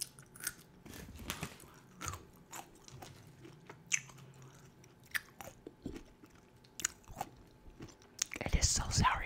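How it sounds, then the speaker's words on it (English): Someone bites and chews a sour pickled carrot up close, with sharp crunchy bites followed by irregular wet chewing and mouth noises, and quiet talk between bites. "try this carrot"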